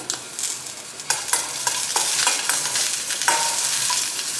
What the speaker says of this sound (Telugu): వెల్లుల్లిపాయల్ని మామూలుగా 1 నిమిషం పాటు అలా ఫ్రై చేసుకున్నా సరిపోతుంది.